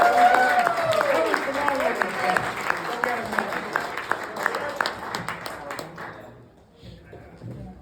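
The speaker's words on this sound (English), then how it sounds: "Give a nice round of applause." An audience at an evening graduation ceremony applauds as a speaker is welcomed, with a voice and ringing tones over the clapping early on; the applause is moderately loud, then fades out near the end.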